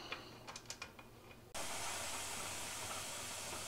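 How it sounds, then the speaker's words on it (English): Steam venting hard through the valve of a pressure canner filled with butternut squash jars, a sudden loud continuous hiss that starts after a few soft clicks and taps. "So we hit our 10-minute mark on the steam fully coming through the valve."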